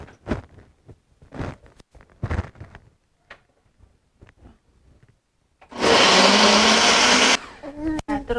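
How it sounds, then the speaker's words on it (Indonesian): Scattered kitchen clatter and quiet sounds give way to an electric blender whirring loudly for about two seconds while blending chillies for a Medan-style anchovy dish, then it stops abruptly. "mami mau blender lagi"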